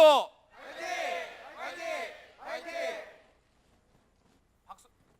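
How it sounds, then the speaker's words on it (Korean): At a Daejin University talk concert, a crowd shouts a fighting cheer three times in unison, three loud rhythmic chants with pauses between, followed by near silence and a faint brief sound. "우리 제가 대진대학교 그러면 화이팅 3번 하시는 거예요."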